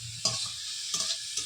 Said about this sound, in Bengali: আলু পেঁয়াজ আগেরগুলো সব ভাজা হয়ে গেছে, তারপরে বাঁধাকপি দেওয়া হয়েছে